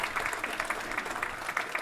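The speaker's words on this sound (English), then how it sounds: "Let's give them a big round of applause." Applause from an outdoor audience at the grand opening of the USS Cincinnati, steady clapping from a moderate crowd heard at some distance, even and sustained without talk over it.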